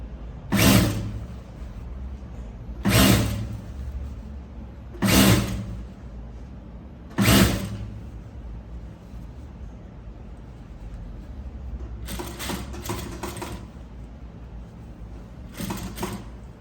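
A sewing machine stitches a decorative zipper onto the front of a skirt in several short, slow bursts separated by pauses, close and fairly loud, and the later runs come in quicker, choppier spurts.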